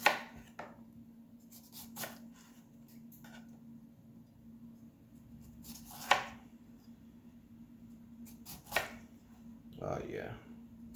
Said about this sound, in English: So we want to cut some lemon slices for the bacon tray